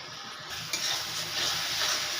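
A paste of poppy seed, melon seed and cashew hits a hot pan for a kakrol kofta curry, a steady soft sizzle with stirring, continuous and close, without talk.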